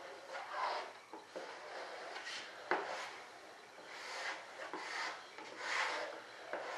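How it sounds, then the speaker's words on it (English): Excess filler compound being scraped off a scale SR-71 model, a close, quiet run of dry rasping strokes that come and go in repeated passes, with one sharper scrape near the middle. "Now I want to come along and scrape some of my excess out of there"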